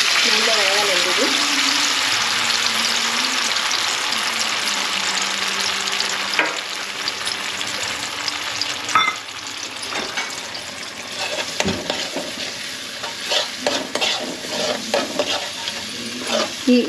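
Tomato and cashew masala frying in a kadai, a steady close sizzle with occasional stirring scrapes and clinks, the crackle thinning and turning more intermittent toward the end.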